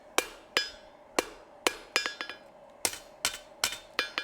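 Rawhide mallet striking metal on an anvil during blacksmith forging, ten sharp, ringing blows at an uneven, unhurried pace, close and clear with nothing else heard.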